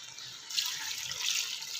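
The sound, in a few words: water being poured into cooking pot of siri paye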